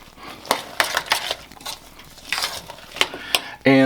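Sweetened coconut flakes are stirred into a frosting mixture in a bowl, with close scraping and soft tapping strokes in an irregular rhythm, ending on a brief clink.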